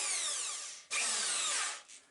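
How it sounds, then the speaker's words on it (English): A powerful electric drill drives a spade bit into wood, giving two loud, close whining bursts that bind and stall with a brief third spin-up at the end. "This drill is probably a little too powerful to be using for this."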